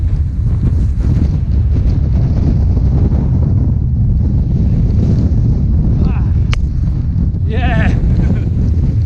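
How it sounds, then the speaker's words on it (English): Strong wind buffets the microphone on an exposed fell ridge near Pillar on the Mosedale Horseshoe: a loud, continuous roar with gusting rumble, and brief whistling bursts late on. "so well and truly in the wind now"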